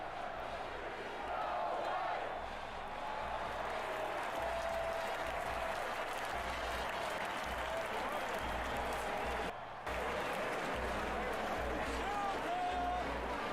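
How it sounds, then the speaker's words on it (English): Steady stadium crowd roar fills a Mississippi State versus Michigan State college football video game, a continuous wash of cheering and chanting from the stands with a brief dropout near the end, sustained and loud throughout. "This crowd's been yelling, "Go white, go green," the entire game here."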